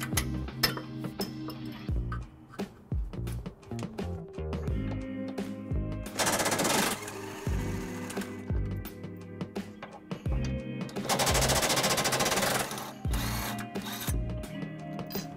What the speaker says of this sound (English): we need to remove this tow hook here, which is held in by 2 bolts that take a 17mm socket to remove